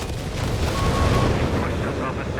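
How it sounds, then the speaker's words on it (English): A bomb run in the Company of Heroes 3 strategy game sets off a continuous roar of rumbling explosions and booms, loud and dense, with a commentator talking over it. "we've got him sending a bomb run on the entire thing here"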